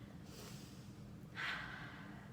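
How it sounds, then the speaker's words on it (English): A person takes two quick audible breaths, the second a loud, sharp gasping inhale, close and alone. "I want you to gasp like a fish out of water"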